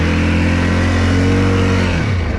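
2023 Segway Snarler AT 5L ATV engine revving loudly and steadily while drifting on the rear wheels, with a rising whine that drops off sharply near the end.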